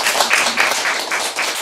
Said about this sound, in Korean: 박수 끝내